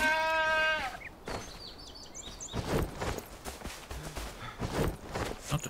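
A sheep in the video game Enshrouded lets out one clear, loud bleat at the start, followed by combat hits and rustling footsteps.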